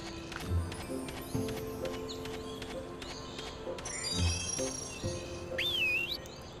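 Horse hooves clip-clop in the Barbie Horse Adventures video game, sounding as a few spaced, soft hoof thuds mixed with chirping birdsong and bright game tones.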